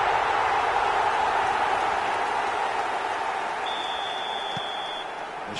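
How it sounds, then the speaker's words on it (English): Crowd noise in an eFootball video game match, a steady broad roar of cheering and applause from the stadium that holds throughout and eases slightly toward the end. "the crowd are reacting to that now"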